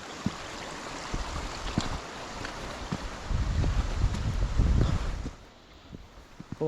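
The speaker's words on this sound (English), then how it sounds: "Another stream coming down, look, from up there." A small stream pours down from above into a gully, a steady broadband rush of water with a louder surge midway, mixed with some wind buffeting on the microphone.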